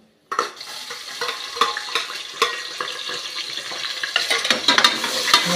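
Onions hit hot oil for a plantain rice dish, a sudden burst of sizzling that continues with clicking spatula stirs and pan scrapes, growing busier toward the end.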